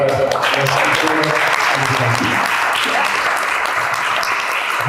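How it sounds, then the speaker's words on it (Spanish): A book launch audience in Bogotá gives the writers steady, full applause, loud and continuous throughout, with some voices murmuring underneath at the start. "un aplauso, ¿verdad?, para las escritoras."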